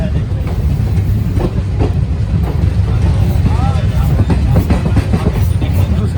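Nangal Dam–Kolkata Gurumukhi SF Express train pulling into Jhajha station, a steady loud rumble of wheels and carriages with faint clicks over the rails, with people talking nearby.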